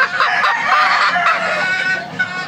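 Bulik and Grey gamefowl chickens, bred as F1 crosses, cluck and call with a dense, bright flock sound that runs steadily and close by throughout.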